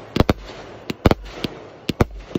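Fireworks explode close by in a rapid, irregular series of sharp cracks and pops over a faint background hiss.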